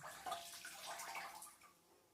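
Washed lawn fabric is pressed and squeezed by hand, letting water trickle and splash out in a faint, close, uneven patter over a couple of seconds.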